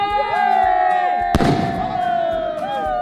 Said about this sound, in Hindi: 100 रुपए वाला स्काई शॉट।